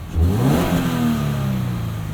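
A Subaru BRZ engine revving with a catted unequal-length header and stock exhaust, a loud close rising then steady drone that holds through the clip with no talking.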